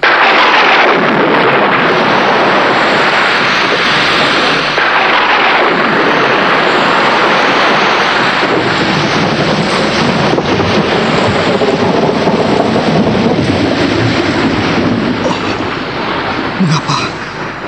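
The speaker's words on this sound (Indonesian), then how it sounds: "Hujan turun makin lebat dan petir menyambar-nyambar." Heavy rain and thunder in a storm sound effect: a loud, continuous roaring wash of downpour with deep rolling rumbles that swell throughout.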